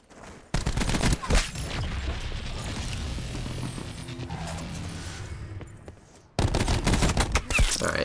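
Black Ops 4 Gun Game on PC erupts in loud, dense automatic gunfire bursts with crashing impacts and mechanical clatter, a short quieter stretch in the middle, then another heavy burst.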